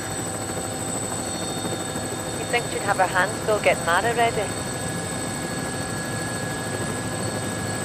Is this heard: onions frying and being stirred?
no